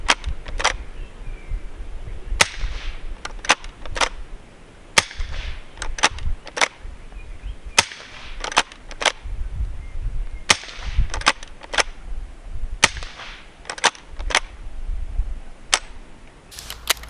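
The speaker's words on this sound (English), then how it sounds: "I've put a sound moderator on it, loaded 10 cartridges into it. We'll just give it a quick shoot just so you can see how it works." A 1906 Winchester .22 pump-action rifle fitted with a sound moderator fires about ten suppressed shots, each a sharp muted crack, with clicks of the pump action between them, spaced unevenly and heard close up.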